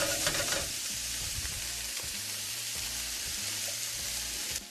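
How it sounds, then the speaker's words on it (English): Celery pieces and other vegetables sizzle and fry steadily in a pot for a Persian celery stew, a continuous crackling hiss with soft scrapes of stirring and no voices. "stir it to make sure all the sides of the celery pieces and the vegetable get to cook and become golden around the edges."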